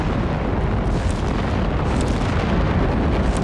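An artillery shell explodes in the World War II strategy game Company of Heroes 3 with a heavy, rumbling blast. A dense, loud boom fills the whole moment.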